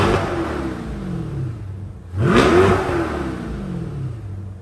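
A Corvette C8 engine and exhaust rev in track mode, first idling loudly, then a quick throttle blip rises and falls in pitch before settling back to a rumbling idle, close and without talk.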